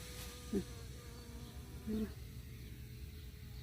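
Bees buzz around blooming lavender planted in a home vegetable garden, with a low, steady drone and two brief, louder swells as insects pass near.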